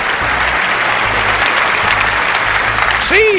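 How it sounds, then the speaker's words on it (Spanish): Church congregation at a Spanish-language sermon bursts into loud, sustained applause, a dense wash of clapping with some crowd noise and a brief whistle or shout near the end. "Que alguien me dé un aplauso más grande que ese"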